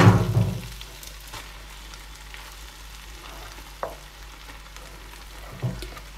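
Lamb offal and meat fry in a pan with a soft, steady sizzle, close by, with a few brief clinks and a louder clatter at the start.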